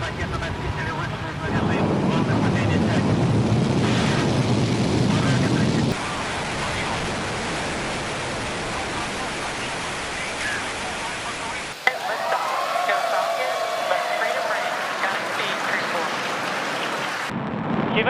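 A crewed space rocket lifting off, heard as a loud, sustained broadband roar that runs throughout, with shifts in character partway through and a brief sharp burst near the middle, no speech audible.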